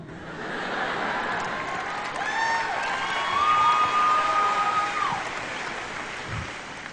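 An audience at a motivational talk breaks into clapping and some cheering, a dense, steady roar of hands that swells slightly in the middle, with faint whistles or voices rising briefly above it.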